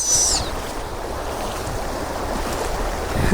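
A strong river current flows at a riverside crossing, a close, continuous rushing wash of water with a brief sharp hiss at the start and wind noise over the microphone.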